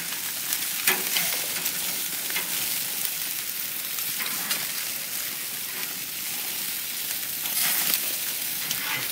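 Chicken sizzles steadily on a gas grill at night, a dense continuous crackle and hiss with occasional louder pops, close and alone with no talking.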